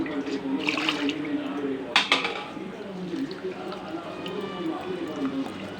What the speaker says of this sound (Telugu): ఇలా ఒకసారి అంతా కడిగేసి ఉడికించేసుకుందాం